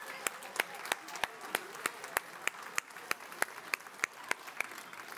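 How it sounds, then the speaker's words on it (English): Scattered, fairly sparse clapping from a church congregation, with distinct individual claps in an uneven rhythm at moderate distance. "Y'all give these young men a big old round of applause."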